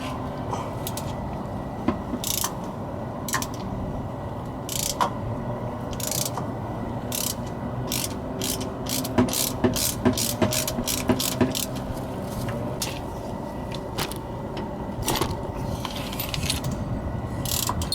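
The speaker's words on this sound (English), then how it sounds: "Go around and loosen up all the bolts." A ratchet wrench clicks in repeated bursts while loosening the rear differential cover bolts on a 1997–2003 Ford F-150, heard close over a steady background hum with gaps between rounds of cranking.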